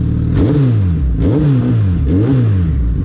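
Suzuki Hayabusa motorcycle engine revved in three repeated blips, each rising sharply then falling back, loud and close with no speech.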